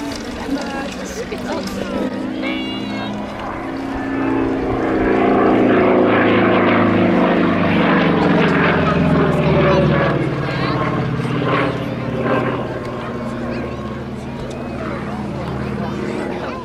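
A Super Pitts Model 12 aerobatic propeller plane flies manoeuvres overhead, its engine drone rising and falling in pitch and loudness as it loops and climbs, under steady commentary from a man.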